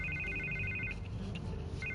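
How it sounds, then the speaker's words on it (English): Telephone ringing inside a Batman video game: a repeated electronic ringtone pulses in short bursts, pauses, then starts again, moderately quiet over a low background hum. "I can't get the phone to stop ringing."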